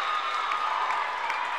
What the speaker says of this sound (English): Once again, a raucous crowd here in Pinedale, Wyoming